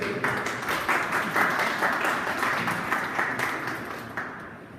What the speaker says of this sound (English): Can I have a round of applause for my friend here?